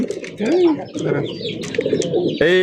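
Pigeons, including Danish pigeons, coo in low, throaty warbles at a pigeon farm, several birds close by, with murmured voices and crowd chatter in the background.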